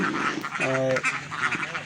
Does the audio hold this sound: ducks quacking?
yes